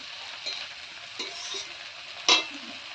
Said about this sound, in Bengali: চলো আমি এদিকে একটু ভাজা করে নিলাম